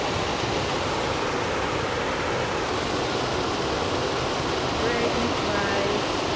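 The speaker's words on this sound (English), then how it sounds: "It's a waterfall." Steady, dense rushing roar of a waterfall along a nature trail at Paradise Springs, a continuous broadband wash filling the whole stretch with no breaks, moderately loud and close.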